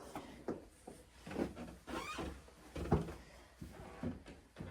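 Old floorboards under dated carpet creak with each step during a house walk-through in Norfolk, soft irregular groans and thumps close by.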